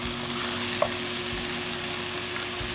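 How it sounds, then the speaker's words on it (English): Green chili paste fries in a pan for biryani, giving a steady, close sizzle with a faint stirring scrape and no voices. "And I'm going to fry this just before adding my yogurt, just so that it mixes up well"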